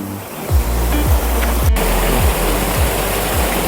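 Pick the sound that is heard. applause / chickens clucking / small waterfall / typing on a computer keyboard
small waterfall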